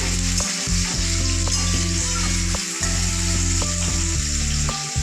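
Potato curry frying in a pan on a home stove, a dense steady sizzle running throughout with a few soft stirring scrapes and a low continuous hum underneath, no voices.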